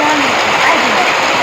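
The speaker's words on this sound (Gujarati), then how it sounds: "કાંબા કેટલો વરસાદ આવે છે" Heavy rain pours steadily onto a tin roof in a village during a downpour, a dense continuous hiss and patter close by, with voices talking faintly underneath.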